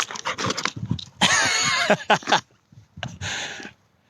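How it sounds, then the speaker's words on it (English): A dog greeting a familiar person on an Edinburgh street, with quick panting breaths, snuffles and excited whimpers in bursts, close by, mixed with people talking. "Sorry, this dog loves me."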